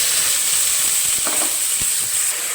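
Chopped small onions fry in hot oil with a steady, loud sizzling hiss close up, broken by a few faint clinks of stirring.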